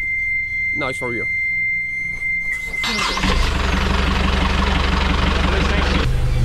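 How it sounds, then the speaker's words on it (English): A brand new Yanmar marine diesel engine on a sailboat cranks and fires up, then settles into a steady, loud running rumble; a high whine and brief voices sound before it catches. "The engine is working."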